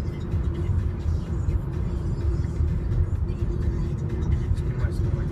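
A car driving in traffic across three lanes into oncoming traffic, with a steady low rumble of road and engine noise inside the cabin, continuous and moderately loud throughout.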